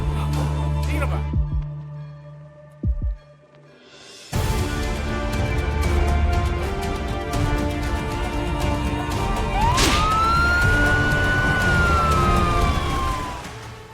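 After a few loud abrupt impacts, a continuous wailing ambulance siren rises and stays loud and close, sweeping up and down over busy background noise through to the end.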